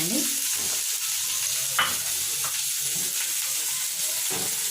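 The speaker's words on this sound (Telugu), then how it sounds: "కొన్ని ఆనియన్ ముక్కలు, కొంచెం వేయించుకోవాలండి." Onion pieces frying in a pan for an aloe vera dish, a continuous close sizzle broken by repeated stirring scrapes and a spatula knock, without talking.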